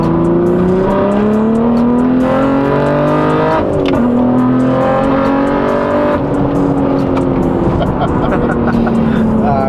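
Loud engine of a tuned 700+ wheel horsepower manual BMW G80 M3 revving up hard through the gears, pitch climbing then dropping at each shift, roaring close by with wind noise.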